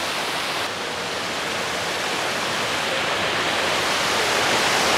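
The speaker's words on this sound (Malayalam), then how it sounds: "ഒരു കുഞ്ഞ് വളരെ ബ്യൂട്ടിഫുൾ ആയിട്ടുള്ളൊരു വാട്ടർഫോളാണ്" Small waterfall inside a cool forest near Schliersee in Bavaria, a steady close broadband rush of falling water that continues without a break, with no voices.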